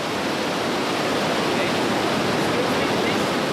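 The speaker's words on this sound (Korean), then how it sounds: "이구아수 폭포는 브라질과 아르헨티나 국경에 자리 잡고 있는데" Iguazu Falls, on the border of Brazil and Argentina, roars with a loud, steady, broadband rush of falling water that fills the whole scene without letup.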